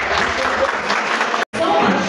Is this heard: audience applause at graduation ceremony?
yes